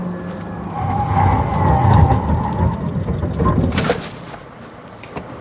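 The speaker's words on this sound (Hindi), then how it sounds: "आपको टायर्स की आवाज़ ज़रूर आई है लेकिन वो गाड़ी 1 इंच भी स्किड नहीं हुई" A Honda Civic RS Turbo brakes hard and its tyres let out a sustained squeal over the engine noise, loud and close, before it fades to lighter road noise.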